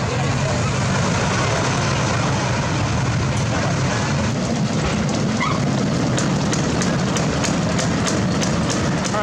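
The Beast, a wooden roller coaster at Kings Island, heard as a steady loud rumble of wheels on track with clattering toward the end, riders' voices mixed into the roar.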